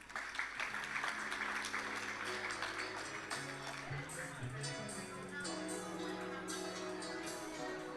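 An audience at the Kruger centenary gala dinner applauds, a continuous spread of clapping that holds for several seconds under background music.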